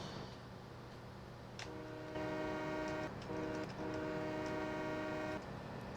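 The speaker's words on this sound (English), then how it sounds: "there is our load of wheat on the train here, and we are headed over to the Maplefield Mill." A freight train hauling a load of wheat in Farming Simulator 17 sounds its horn in long sustained blasts with a short break between them, over a steady rumble of rolling cars.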